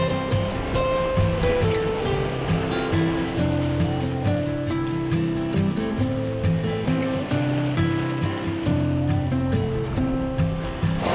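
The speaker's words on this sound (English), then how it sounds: "All right, so wind's picking up." Wind and sea waves around a sailboat, a steady loud wash of surf and water noise with an even rolling rhythm throughout, no talk.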